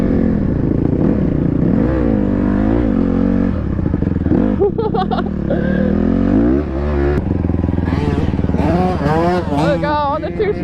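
A two-stroke off-road motorcycle revs and rides hard on a trail, its loud engine note climbing and falling in rising sweeps with rattling clatter, close to the rider.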